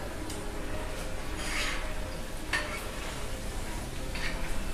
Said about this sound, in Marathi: हे आपलं तेल गरम झाले, आपण हे शंकरपाळ्या त्यात टाकून घेऊया.